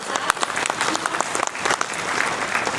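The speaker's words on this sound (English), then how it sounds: "round of applause" A gathered audience gives a round of applause, steady dense clapping at moderate distance for nearly three seconds with no one speaking.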